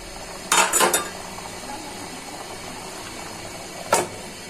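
A lid set onto a pot of browning beef and potato curry, two quick metallic clatters at the start and one more a few seconds later, close and clear over a steady low simmering hiss.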